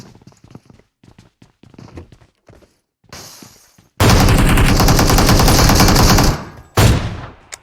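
Rapid bursts of automatic gunfire from a glider in PUBG Mobile, a sustained loud stream of shots for about two seconds followed by a short second burst, after sparse quieter clicks and pops.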